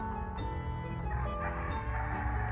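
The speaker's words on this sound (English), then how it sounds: "And there's a chicken" A chicken calls in a greenhouse among fruit trees, a short burst of clucking and crowing-like vocal sound, fairly close and steady over a couple of seconds, with no talking.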